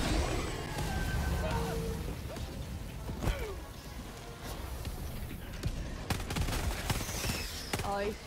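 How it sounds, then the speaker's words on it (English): Artillery barrage in the video game Helldivers 2: a dense stretch of loud, rumbling blasts and sharp cracks, with heavy gunfire layered among them and a voice talking over the battle. "Oh, he's throwing a barrage, you know, someone has."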